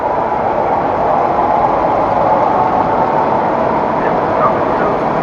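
An MTH R36 subway train runs with a steady, loud rumble and rolling rail noise that holds unbroken throughout, with no voices.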